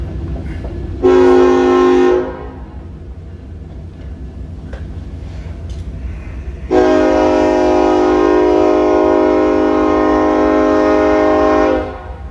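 A coal train passes by, sounding its horn in a brief loud blast and then a second, much longer sustained blast, with a steady low rumble of the moving train underneath throughout.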